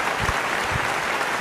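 Audience applause at an award ceremony, a steady dense wash of clapping hands, loud and continuous, with no voices over it.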